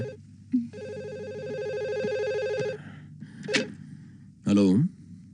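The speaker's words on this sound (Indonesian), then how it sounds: "Biar telepon Papa yang angkat." A telephone rings in a tone-rich burst for a couple of seconds inside a dramatic indoor scene, followed by short loud vocal sounds like gasps.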